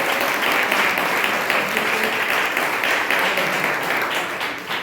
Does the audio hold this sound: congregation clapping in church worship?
yes